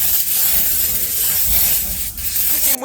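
Can of lemon-scented oven cleaner spraying in one loud, continuous close hiss lasting under three seconds, ending abruptly.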